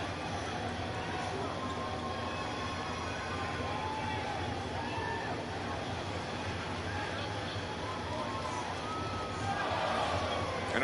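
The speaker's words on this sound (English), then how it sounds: "the crowd does not agree either" Virtual arena crowd in a wrestling video game roars and murmurs in a steady, dense wash of cheering and babble, swelling louder near the end.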